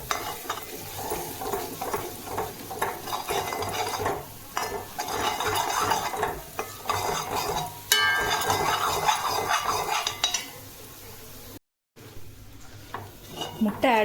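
Egg is sautéed and stirred in a pan while being cooked for chappathi egg kothu, with repeated scraping and clattering of a utensil against the pan over a soft sizzle, pausing briefly near the end.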